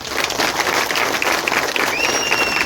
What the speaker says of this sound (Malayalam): ഇതിന്റെ നടത്തിപ്പുകാർക്ക് ഒരു വലിയ ക്ലാപ്പ് നമ്മൾ കൊടുക്കണം.